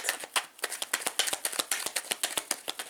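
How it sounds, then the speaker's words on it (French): A deck of cards is shuffled and drawn for a card reading, giving a quick, rhythmic run of crisp flicks and snaps, close and fairly clear, with no talk over it. "je vais tirer les cartes."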